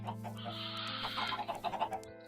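Chickens in the video game Minecraft with the Thaumcraft mod cluck softly in short, choppy bursts, the clucks growing a bit livelier toward the end over a low steady hum.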